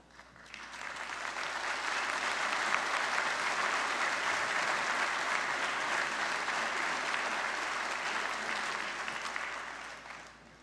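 Applause from the audience at a college convocation for the Marshall School of Skilled Trades and Apprenticeship: a dense, steady wash of clapping that swells in, holds for several seconds, then fades away.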